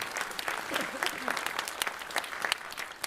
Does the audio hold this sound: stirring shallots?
no